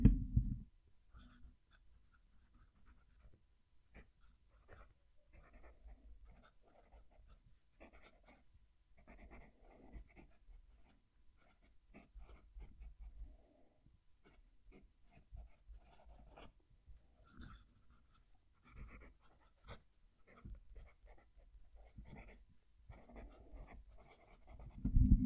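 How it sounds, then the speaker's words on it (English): Broad German nib pen scratching across paper, close up, in a long quiet run of soft strokes and scrapes with short pauses between. "We'll move the mic down to the paper and we'll do some writing."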